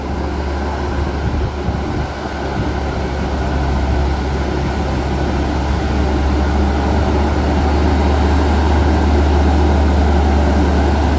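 A Chenglong H7 tractor truck's engine hauling a heavy load up a mountain pass: a loud, steady, low droning roar that holds continuously throughout without pause.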